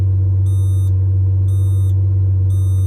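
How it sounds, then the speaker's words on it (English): Three evenly spaced, clear electronic beeps from the reverse gear warning inside the cabin of a Lamborghini Murcielago LP640, sounding over a loud, steady low engine hum. "when you put it in reverse, it beeps at you like a box truck's backing up"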